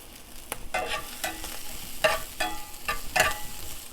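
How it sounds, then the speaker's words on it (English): Pork chops frying in a pan with green salsa as they are stirred, scraping utensil strokes and bursts of sizzle coming in irregular clusters over a soft, steady fry, close by and with no voices. "Don't forget to come back, give it a little stir."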